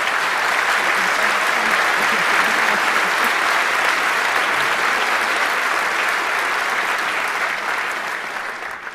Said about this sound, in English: Round of applause for Fobs and Sky T.